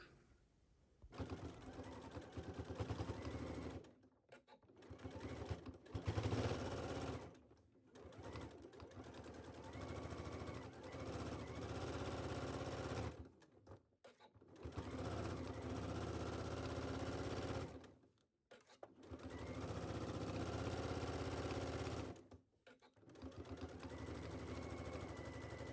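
A home sewing machine runs a 5/8-inch seam through all fabric layers of a garment, sounding in several sustained whirring bursts separated by short pauses, steady and close.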